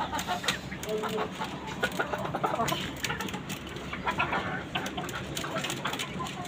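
Chickens on a rooftop poultry breeding farm cluck steadily throughout, with scattered louder calls over a constant busy background of fowl.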